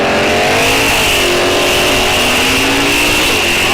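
Drag race cars, including a 1974 GTO and a Nova, launch together off the start line at a raceway, their engines roaring loud and steady with rising revs, and no voices heard.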